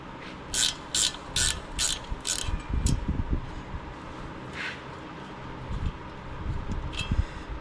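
A hand ratchet clicks in quick repeated strokes, then in slower bursts, up close while loosening bolts on a Caterpillar D2 dozer during belt maintenance.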